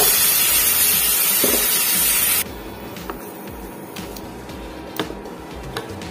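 Mustard paste goes into fried bitter gourd in a hot pan, with a loud spitting hiss that drops sharply to a quieter, steady sizzle. Scattered ticks and clicks of the pan and spoon follow.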